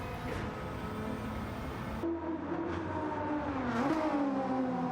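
In a racing video game, a car engine revs hard while passing a Toyota Supra in a tunnel. The engine note is loud and close, with its pitch climbing and falling through gear changes.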